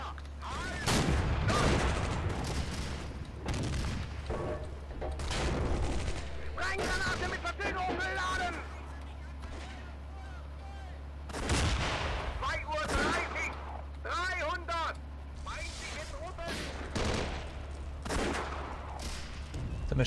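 Machine gun fire and artillery in the tank game Steel Fury, set on Day 1 of Operation Barbarossa at the Bug River: bursts of rapid gunfire and booms come and go over a steady engine drone, with someone talking throughout.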